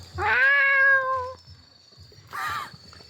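A cat gives two meows, the first long and drawn out with a clear pitch, the second shorter after a pause, close and fairly loud over faint low background rumble.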